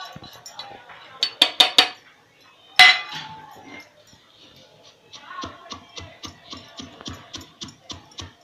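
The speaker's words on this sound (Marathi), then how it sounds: "आणि मी आता खसखस जरा बारीक करून घेते कलबत्ते." Poppy seeds pounded in a mortar and pestle while making karanji filling: a few sharp clinking strikes, then a steady run of rhythmic, evenly spaced thuds close by, with no talk.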